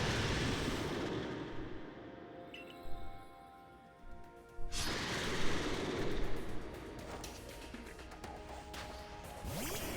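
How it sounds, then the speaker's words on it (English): Explosion move in the Pokémon Legends: Arceus video game: a loud booming crash with a rumbling, noisy tail, a brief dip into quiet, then another broad blast and sustained roar that fills the rest of the clip. "Explosion."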